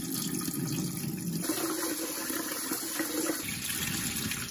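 Water runs and splashes while sweet rice is gently washed for Korean makgeolli, a continuous close rushing and trickling flow with slight shifts in tone midway.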